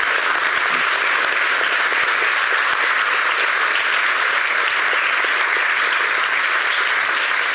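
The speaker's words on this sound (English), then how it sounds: "So I would like to give him a big round of applause" Audience at a feature film teaser event giving a big round of applause, steady dense clapping that holds at an even loudness throughout with no voices standing out.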